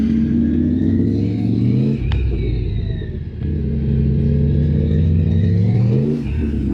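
A motorcycle engine hums and revs continuously while the rider loops figure eights, its pitch rising and falling with each turn, loud and close with a brief throttle dip midway.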